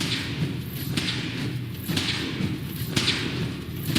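Weapon fire in Fallout 4 during a power armor suit test, heard as repeated thudding shots at roughly one-second intervals over a steady low rumble of background noise.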